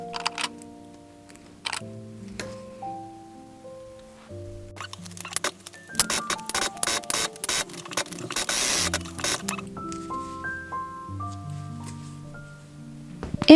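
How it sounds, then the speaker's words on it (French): A sewing machine stitches a velcro strip onto a fabric angel wing for a newborn cocoon, with short mechanical bursts and a longer run of rapid whirring stitching mid-clip, set against soft background music. "la fixe avec des épingles ou des pinces et je couds à la machine."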